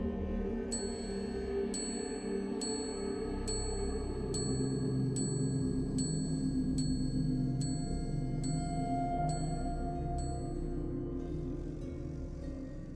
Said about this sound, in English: The only sound to be heard was the chiming of an old and broken clock.